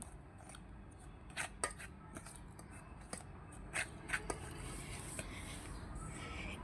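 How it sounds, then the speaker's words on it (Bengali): Dry ingredients are mixed in a bowl ahead of making batter, giving quiet, irregular scraping and clicking strokes, some sharper than others, over a steady background hiss with no talking. "এখন সব কয়টা উপকরণ ভালো করে মিশিয়ে নিতে হবে"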